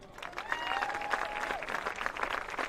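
Crowd applause at a high school football game as senior football athletes and their parents are recognized, steady sustained clapping with a faint tonal whistle-like sound partway through and some background voices.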